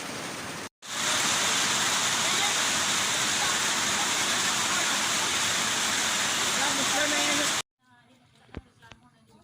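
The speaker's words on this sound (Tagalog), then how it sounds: "biglang bumuhos po ang ulan guys" A sudden heavy downpour roars as a loud, dense, unbroken wash of pouring rain for several seconds, then cuts off abruptly to near quiet with only faint scattered sounds.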